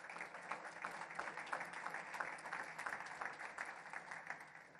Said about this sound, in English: everybody give a round of applause for our panelists